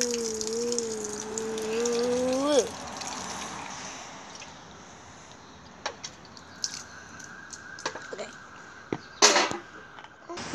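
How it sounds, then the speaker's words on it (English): Water poured over a pair of headphones trickles and splashes faintly, with a few sharp clicks and knocks near the end. A brief wavering tonal sound opens the recording before the pouring begins. "Pouring water."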